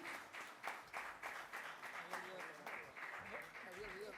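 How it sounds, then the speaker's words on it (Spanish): Conference audience applauding to thank the speakers: steady, fairly distant clapping from a full room, sustained evenly throughout with faint voices underneath. "vamos con un aplauso a agradecer al magíster Juan Rial, al doctor Mariano Bartolomé, al doctor Norberto Consani"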